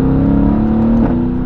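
A tuned Mercedes AMG GT with 600 PS and 790 Nm by PP-Performance drones loud and close at a steady engine pitch, dipping briefly near the end before holding again, with no talking.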